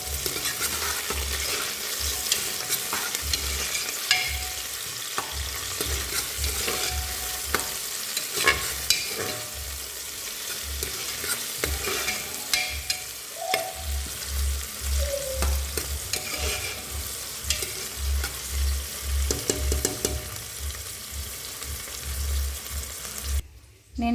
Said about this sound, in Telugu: కరివేపాకు, పచ్చిమిర్చి కూడా వేసుకున్నా. వీటిని ఒకసారి కలుపుకుందాం.